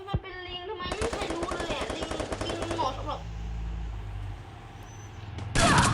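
Rapid automatic gunfire in a Free Fire 4 vs 4 battle royale match, dense bursts of close, loud shots for a couple of seconds followed by a low engine-like rumble and another sharp shot at the end.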